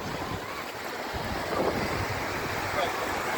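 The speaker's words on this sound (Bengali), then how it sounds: "ঢেউ কিন্তু বাড়তেছে ঢেউ কিন্তু মানে, মানে পানির জোয়ার কিন্তু বাড়তেছে" Sea waves surging on a rising tide, a broad continuous wash of surf mixed with wind buffeting the microphone, steady and fairly loud with swells building midway.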